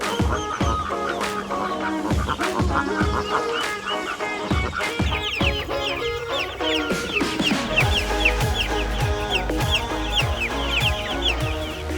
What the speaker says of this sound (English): We've got over 140 chicks sitting right behind us right now between meat chickens, ducks, and regular laying hens, as well as turkeys.